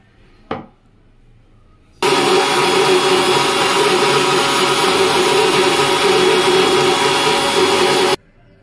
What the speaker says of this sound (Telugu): ఒక గ్లాస్ వాటర్ పోసి గ్రైండ్ చేసుకుందాం